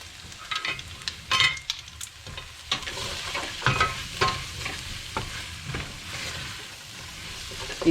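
Spices being stirred around a pan for an Indian-style pumpkin curry, with a steady sizzle and irregular scraping strokes throughout, no voices.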